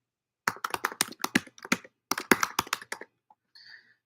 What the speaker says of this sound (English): just getting this typed out